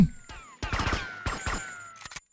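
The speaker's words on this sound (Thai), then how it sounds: "ใครยิงนะวะ ใครยิงแล้ววะ" Gunfire from Grand Theft Auto Vice City during a raid on a mansion: a few sharp bursts of shots in quick clusters, fairly loud, with game sounds around them and no talk.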